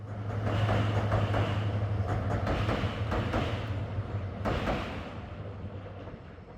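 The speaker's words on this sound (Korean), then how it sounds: "때마침 백두대간 협곡열차가 지나갑니다." The Baekdudaegan canyon train rolls past in a remote mountain gorge near Bonghwa, a loud steady rumble with a low engine hum and rattling wheels that eases slightly toward the end, with no talking.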